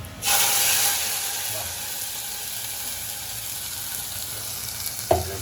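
Ground spice paste hitting hot oil in a pan, an immediate loud frying hiss that settles into a steady close sizzle, ending with a brief clatter near the end.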